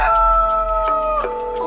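A cartoon rooster crows a single drawn-out cock-a-doodle-doo, close and clear, its tone dipping near the end over a low background hum.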